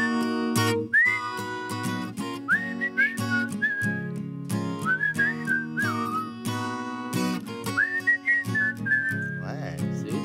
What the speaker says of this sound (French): c'est qu'on démarre par un sifflet.